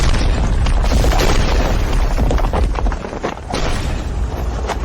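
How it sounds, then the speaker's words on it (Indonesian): A deep, booming explosion rumbles on for several seconds, dense and loud, fading slightly before a second surge of crashing noise. "Suara ledakan dari mana?"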